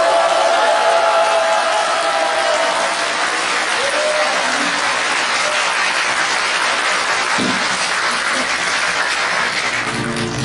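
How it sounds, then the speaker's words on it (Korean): Steady applause from a large audience at a church worship service fills the room, a continuous wash of clapping that holds at an even level throughout. "방송과 함께 박수로 시작하겠습니다."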